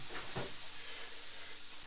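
Egg, ham and cheese toastie frying in butter in a pan gives a steady, close sizzling hiss throughout, with a couple of brief soft knocks near the start.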